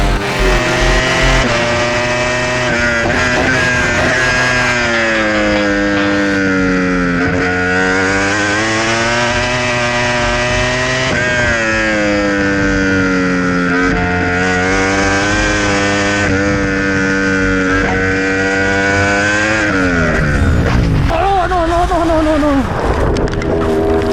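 A race car engine screams at full throttle in a racing video game, loud and close, its pitch climbing and dropping through gear shifts over a sustained run before a final burst of revving.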